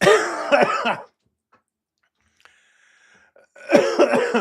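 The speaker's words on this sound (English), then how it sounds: "This moment of coughing" A burst of harsh coughing up close, then a pause of near silence with a faint click, followed by another round of coughing.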